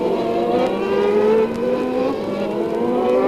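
Formula 1 cars from 1990 race at Interlagos, their high-pitched engines screaming loudly and steadily with rising pitch as they accelerate, alone without talk.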